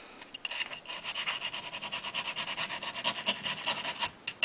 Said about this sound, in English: I'll go ahead and I'll scrub the plastic parts or the polymer pieces out